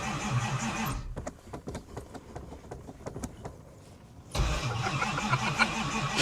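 A race car engine cranks over and fires up, catching with a loud, steady roar after a stretch of rapid starter clatter, close by with no talking.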